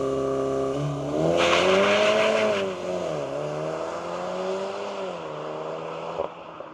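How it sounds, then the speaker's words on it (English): A VW Golf R Black Edition facelift in drift mode accelerates hard with a rising, loud engine note that climbs through gears, with brief wheel spin and tire noise on the road, close and continuous. "with the drift mode, even just when accelerating straight, we put some tire stamps on the road actually with a little bit of wheel spin when accelerating"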